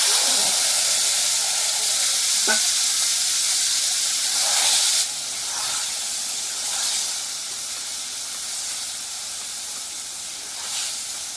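Bombay duck (lote fish) dropped into a hot karahi after a spice tempering, a loud close, steady hissing sizzle that surges as the fish goes in and then settles.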